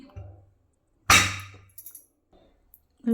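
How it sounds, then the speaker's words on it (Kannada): A pressure cooker whistle weight being set onto the lid in a kitchen, giving one sharp, bright metallic clink followed by a couple of softer taps and a short scrape, close and unaccompanied by talk. "ವಿಷಲ್ ಹಾಕ್ತಾ ಇದ್ದೀನಿ"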